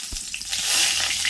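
Cumin seeds and dry red chilies sizzle briefly in hot oil in a kadai, a short, bright crackle that starts with a soft thump as the spices drop in.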